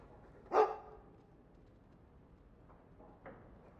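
A single sharp, fairly loud dog bark from the video game Dragon Age 2, followed by a couple of fainter short yips or soft sounds in an otherwise quiet scene.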